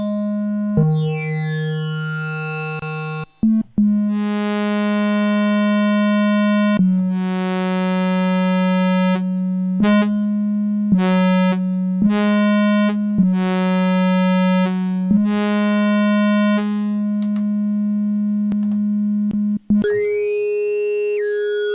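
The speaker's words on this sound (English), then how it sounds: "So you hear this going through all the position of that wavetable." An Arturia MiniFreak synthesizer's wavetable oscillator holds a steady low note while the timbre steps and sweeps through different wavetable positions, with abrupt changes and short glitchy chirps; loud, close and continuous, with no voice.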